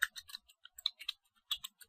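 Rapid, uneven keystrokes clatter on a computer keyboard as a command line is typed, a close, quiet run of separate key clicks with short pauses between bursts.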